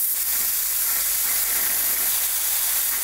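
A Miller 40 amp, 220 volt plasma cutter firing on compressed air gives a loud, continuous, close-up hiss with a broad rushing tone and no breaks.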